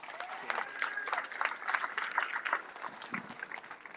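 An audience at a Bel Air High School campus evening event claps for a student named Ariel, a steady wash of applause lasting several seconds with faint voices mixed in.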